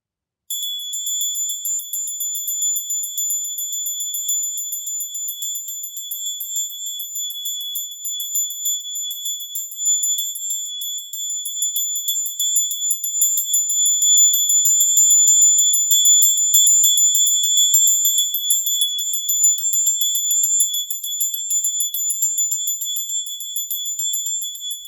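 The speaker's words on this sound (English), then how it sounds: "I've got a little bell that I'm going to use just to seal all of this in." A small hand bell rings with a sustained, steady high tone that lingers for the whole stretch, swelling slightly midway, with no voices over it.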